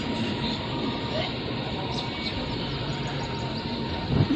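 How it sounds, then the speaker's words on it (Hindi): Passenger train rolling into Palanpur station, a steady rumble of wheels and carriages with faint squealing, close and continuous throughout, a brief louder clatter near the end. "बिफोर टाइम ट्रेन पहुंच रही है।"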